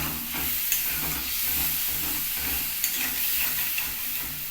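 A potato curry with gram flour simmers after a little warm water is added, giving a soft, steady sizzle and bubbling with a few faint clinks from stirring and no talking.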